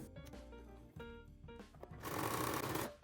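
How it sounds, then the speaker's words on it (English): A sewing machine stitches bias tape down onto upcycled clothing, humming steadily with a brief pause and then a louder, busier burst of stitching near the end. "I'm just going to stitch down that bias tape"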